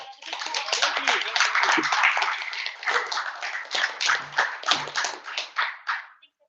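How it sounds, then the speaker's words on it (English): An audience applauds at the end of a tech meetup talk, a dense burst of many hands clapping that swells, then thins into scattered claps and fades out. "Let's give him a round of applause."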